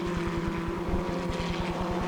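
Formula Ford 1600 racing cars at Kirkistown circuit in 1987 make a steady, buzzing engine drone with fast, regular pulsing, heard fairly close and without talk.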